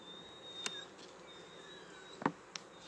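Honey bees buzz faintly at an open beehive during an inspection, with a thin, sustained drone and a few brief louder passes of individual bees close to the microphone.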